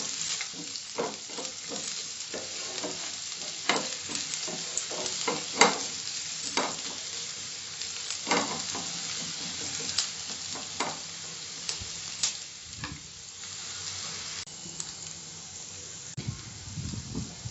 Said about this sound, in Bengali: স্লাইস করা পেঁয়াজটা দিলাম, এটাকে আমি 1 মিনিট ভাজবো, যতক্ষণ না কালার চেঞ্জ হয়।